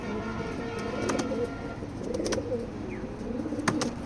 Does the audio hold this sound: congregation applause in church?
no